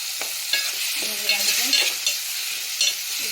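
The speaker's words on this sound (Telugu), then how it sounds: "ఇంక ఇప్పుడు టమాటా మొత్తం అయితే కలుపుతున్నాం" Tomatoes being stirred into an egg curry in a hot pan give a steady frying sizzle with intermittent scraping stir strokes, close and continuous with no talking.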